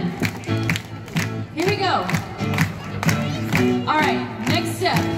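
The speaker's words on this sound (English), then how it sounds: "Disney Springs, I need you guys to clap." Disney Springs crowd clapping along in time to upbeat music at an outdoor dance performance, steady rhythmic claps and cheers from a lively gathering, with a performer's voice calling out over it.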